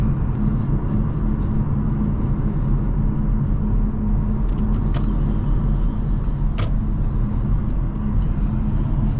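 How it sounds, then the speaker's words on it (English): A 2012 Audi A7 3.0T Quattro cruising a backroad, heard from inside as a loud, steady low engine and road rumble with occasional faint clicks and rattles. "let's do some backroad driving and wrap up this test drive."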